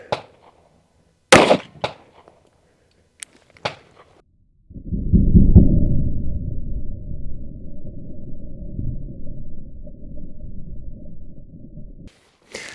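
Glock 45 pistol fitted with a suppressor-length barrel, firing 124 grain +P rounds: a few sharp, loud cracks early on, followed by a long sustained low rumble that carries on for several seconds, with no talking.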